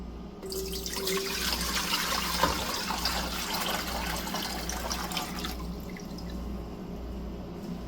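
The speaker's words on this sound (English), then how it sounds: "And then add cool water to the pot." Cool water runs steadily into a pot on the stove for about five seconds, splashing and gurgling, then stops, leaving a quiet hum.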